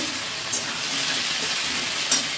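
Continuous sizzling hiss of papaya, potato and tomato frying in a pan, with a couple of brief louder crackles.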